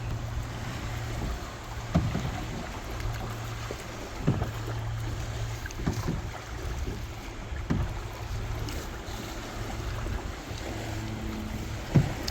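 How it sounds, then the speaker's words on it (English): Canoe paddling on a lake at Blue Lake Provincial Park, Ontario: soft paddle strokes and water splashes recur every couple of seconds under steady wind rumble, with no one talking. "I guess we should start paddling."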